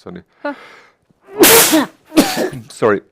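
A single sharp sneeze bursts out near the microphone during a women's chess tournament broadcast, followed by a brief apologetic voice.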